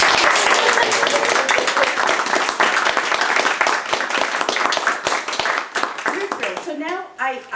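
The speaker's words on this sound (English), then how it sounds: "So Heidi, first round of applause." An audience applauds Heidi Stillman at an award presentation, dense sustained clapping from many hands that thins out near the end as a voice begins speaking.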